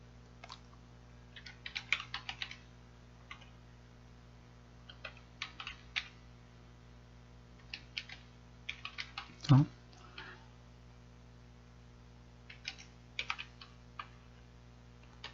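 Someone typing a file path on a computer keyboard, with short bursts of quick key clicks separated by pauses and one sharper knock near the middle, close and fairly quiet.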